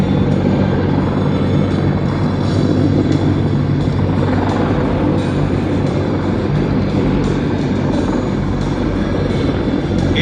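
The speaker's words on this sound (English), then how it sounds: "the largest helicopter in the Marine Corps with a 99 foot and a little bit more in length" Large three-engine Marine Corps helicopter, about 99 feet long with a 79-foot rotor, roaring loud and steady at an air show, its deep rotor drone continuous throughout.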